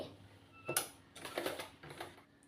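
A sewing machine runs in short bursts, stitching a double seam through saree fabric being turned into a long frock, with a few brief loud runs and pauses between them.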